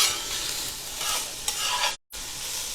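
Garlic sizzling in a pan, a close, bright crackle with stirring swells, cut by a brief gap of silence before the sizzle resumes.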